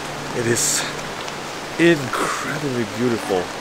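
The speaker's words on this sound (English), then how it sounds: "Evening walk in the rain." Rain falls at night in Ginzan Onsen, a Japanese hot springs town, as a steady soft hiss beneath a person speaking nearby during an evening walk.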